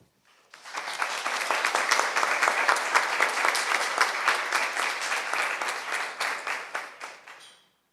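An audience in Portland bursts into sustained, dense applause to welcome a speaker. The clapping holds steady for about seven seconds, then thins and fades out.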